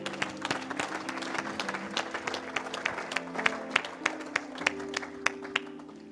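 A church congregation claps and cheers, with sharp individual claps standing out over a crowd wash and a sustained tonal backing, likely music, running underneath throughout.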